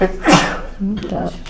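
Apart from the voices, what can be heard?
sneeze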